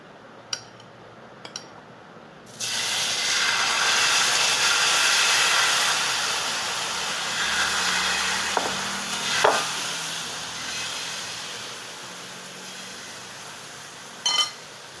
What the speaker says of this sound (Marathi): आता ह्याच्यावरती मी मिश्रण टाकून घेणार आहे